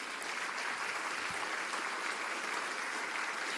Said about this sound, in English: Don't clap me, clap for Heidi.